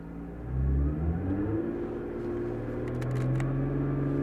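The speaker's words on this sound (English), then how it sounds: "We're going to accelerate in first gear." A Nissan R35 GT-R GR6 transmission accelerating in first gear, heard as a steady mid-level engine and drivetrain whir that rises in pitch and holds, with faint whining overtones and no talk.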